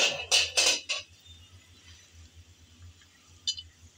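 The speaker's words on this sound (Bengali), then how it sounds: "এখন ঢাকনা দেব।" A lid set onto a cooking pot with fish curry: a few quick metallic clinks and clatters in the first second, then low quiet hum with one faint clink later.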